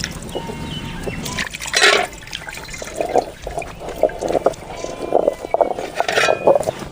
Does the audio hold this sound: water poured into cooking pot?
yes